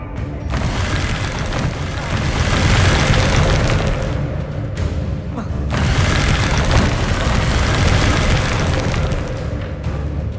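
A Bombarda explosion spell in the video game Hogwarts Legacy, heard as two long, loud, rumbling blasts separated by a brief dip, with dense noisy texture filling each burst.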